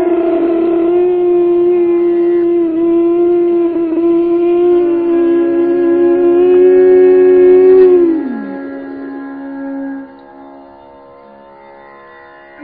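A throat sound made during ujjayi pranayama yoga breathing: one steady, sustained droning tone held for about eight seconds, then dropping in pitch and fading out alone.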